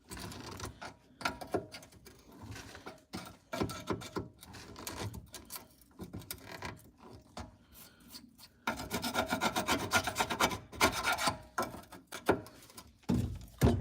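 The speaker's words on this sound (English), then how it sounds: "We're gonna try to drill these spot welds," Drill bit grinding through spot welds on the sheet-metal floor of a Ford Ranger truck, a harsh rasping, scraping noise that comes in irregular bursts and swells louder near the end, close up with no talking.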